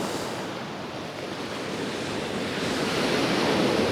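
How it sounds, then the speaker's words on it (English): Atlantic waves crashing over a shark-fin-shaped coastal rock, a loud continuous roar of surf and wash that swells toward the end, with some wind noise and no voices. "With a lovely crashing wave coming over it."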